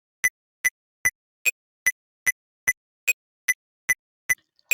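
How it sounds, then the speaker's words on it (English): Metronome clicks in FL Studio Mobile at a raised tempo: a dozen sharp, evenly spaced ticks about every 0.4 seconds, steady and close, with nothing else heard. "Now let's increase the tempo and see how fast the metronome will sound."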